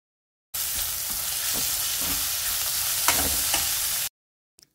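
Chopped onion with fenugreek and coriander leaves being stirred in a pan for methi aloo paratha, a continuous soft sizzle with a few scraping spatula strokes, close and steady, then an abrupt stop.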